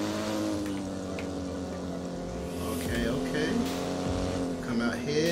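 A BMW M2 drift car tuned to 800 BHP runs in the Assetto Corsa racing game at Nürburgring, its engine droning steadily and swelling as it revs, with tire noise and a voice talking over it.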